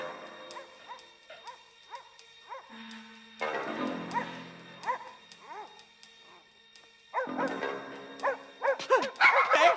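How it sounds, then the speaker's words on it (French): Dogs barking and yipping in a 1993 martial arts film scene, repeated sharp barks starting sparse and building to a dense, louder chorus near the end. "Il y a des chiens!"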